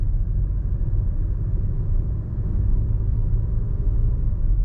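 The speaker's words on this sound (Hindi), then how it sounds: "अब एक्सीलेटर देते हैं। ये 1500 RPM पे इसने दूसरा गियर डाला 18 की स्पीड में।" Cabin of a 2021 MG Astor turbo automatic accelerating from low speed, a steady, loud low engine and road rumble that swells slightly as gears change, with no voices.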